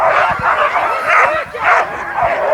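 Eager sled dogs at the start of a race stage in Lanuéjols, a pack yipping, whining and barking excitedly in rapid overlapping bursts, close and loud.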